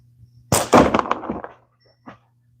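A slingshot is fired at a frog-shaped target, and one sharp, loud impact sets off a burst of clattering rattles that fade over about a second, followed by a single fainter tap.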